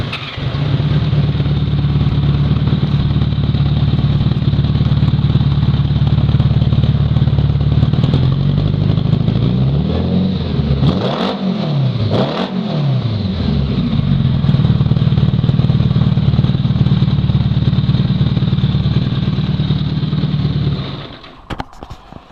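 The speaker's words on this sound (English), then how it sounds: "Let me start this up real quick so you can get a listen to the exhaust." A motorcycle engine with blued headers runs steadily and loudly close by for about twenty seconds, its exhaust holding a rough, even idle with a couple of brief revs in the middle before it cuts off.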